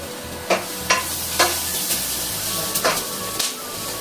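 Onion browning in a pan with ginger-garlic paste for veg biryani, stirred so a steady sizzle rises behind repeated scraping strokes of the spoon against the pan, close and fairly loud, with no talk.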